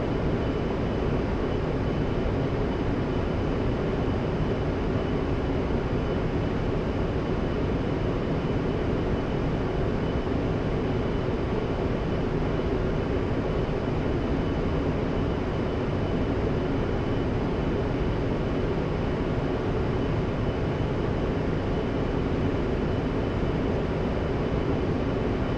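An A-10C jet taxis on the ground in the DCS flight simulator, its engines producing a steady, loud, unbroken roar that holds without change throughout, with no voices.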